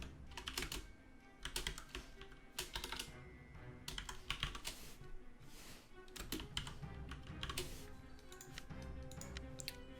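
Someone types fast on a computer keyboard while playing Town of Salem. Bursts of close, crisp key clicks come in uneven runs with short pauses between them, and no one speaks.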